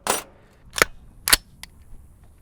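Three sharp suppressed rifle shots from a SilencerCo 46M on a 300 Blackout firing 220 grain subsonic rounds, each a short crack followed by a fainter fourth tick, spaced unevenly across a few seconds, close and fairly quiet.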